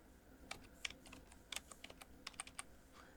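Light keystrokes on a computer keyboard as a phrase is typed into a search bar, a quiet irregular run of sharp clicks spread across a few seconds with no voice over them.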